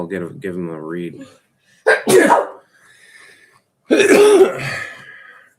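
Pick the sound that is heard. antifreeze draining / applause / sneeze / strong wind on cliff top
sneeze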